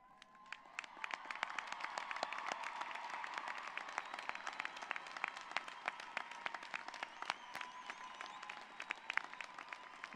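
First-generation graduates at the 2024 CSUN commencement cheer and applaud in a large hall, a continuous burst of clapping that swells and holds for about ten seconds, with a few whoops.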